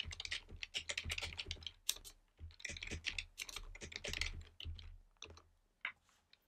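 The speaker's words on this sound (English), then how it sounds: "I'm just going to do a bit of typing" Rapid typing on a computer keyboard, quiet and close, with bursts of clustered keystrokes separated by brief pauses and a few isolated key taps near the end.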